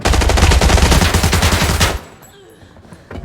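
Automatic rifle fire in the shooter game Arena Breakout rattles out in one loud, rapid, unbroken burst of about two seconds, then cuts off abruptly into quiet ambience, with a faint knock at the end.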